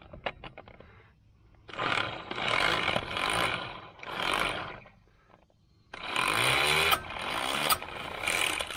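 An electric impact wrench runs in reverse on the exhaust system of a 1977 Chevrolet Malibu Classic, giving several loud, close, rattling bursts separated by short pauses, with the final burst running longest.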